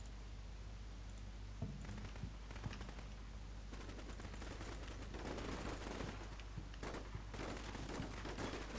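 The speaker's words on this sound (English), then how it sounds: "Receiving more fire from in here." Gunfire in the Combat Mission: Shock Force 2 video game: continuous rattling bursts of automatic weapons and scattered single shots, fairly distant and steady under a low rumbling background.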